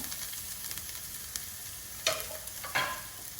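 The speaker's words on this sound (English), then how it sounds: "Stir, saute for a couple of minutes until that fresh taste of the coconut is gone." Grated carrot and coconut stir-fry quietly in a pan, a soft, faint sizzle broken by a few sharper scrapes as the mixture is stirred, with no voices.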